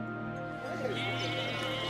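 A sheep bleats in a short, wavering call set against a steady musical or ambient background, moderately loud and fairly close.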